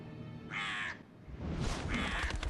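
Two harsh caws from a crow in the video game Still Life, each about half a second long and separated by a brief pause, heard over a low background hum.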